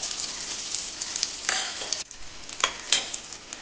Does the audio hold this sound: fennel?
yes